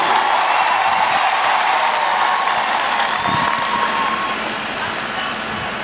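Church congregation at a Swahili-language revival service applauding in a sustained, dense wash of clapping and crowd noise that holds steady and eases slightly toward the end.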